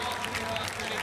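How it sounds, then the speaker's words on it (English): A throng of fans on Deansgate in Manchester applauds sprinter Yohan Blake after a street race, a steady dense wash of clapping and crowd noise with no gaps. "Yohan Blake taking the applause of the crowd here on Deansgate"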